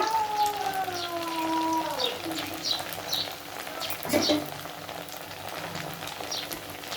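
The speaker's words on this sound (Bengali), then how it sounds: "এই দেখো এমন করে ভেজে নিচ্ছি, ঠিক আছে?" Food fries in a pan while making cabbage paneer, a steady close hiss and crackle under a voice that talks at the start.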